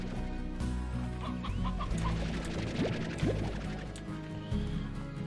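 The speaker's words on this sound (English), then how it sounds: "Any more chickens down here?" Chickens cluck repeatedly in Slime Rancher, with several short close clucks and squawks scattered over a steady ambient game background.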